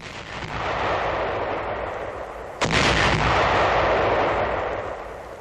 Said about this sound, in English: These anti-personnel shoe mines are exploded 4 at a time